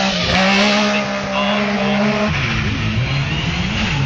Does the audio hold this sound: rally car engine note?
yes